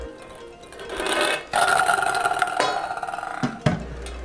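A halogen oven's convection fan whirs steadily while ping pong balls spin and rattle around inside the glass bowl, a continuous buzzing hum with clattering bursts and a few louder knocks near the end.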